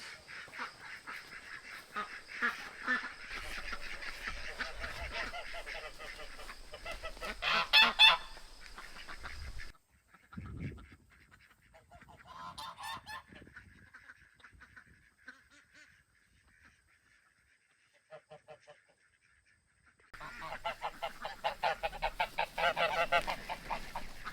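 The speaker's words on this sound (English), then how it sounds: "Might as well get the ducks out while I'm here." Loud honking quacks from several ducks in bursts, fading to sparse calls and near silence before another noisy burst of quacking returns.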